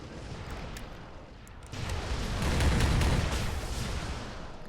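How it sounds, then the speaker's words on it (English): A spinning four-barrel machine gun fires in a Warhammer 40k battle between Tau forces and a Krieg trench line, producing a continuous, loud roaring rumble of rapid fire mixed with distant booms that swells toward the middle. "That machine gun is spinning away."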